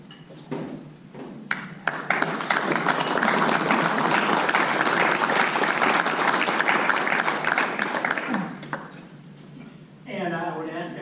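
Audience applause at a Rotary club meeting, a steady clapping crowd swelling for several seconds and then tapering off, with brief talk near the end.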